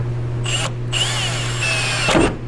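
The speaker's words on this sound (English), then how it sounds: "I'd rather drill an extra hole I didn't need to than miss one" A power drill whines up in short, loud bursts, starting and stopping as it bites into sheet metal of a 1962 Chevy C10 pickup, close by.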